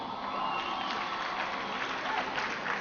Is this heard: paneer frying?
no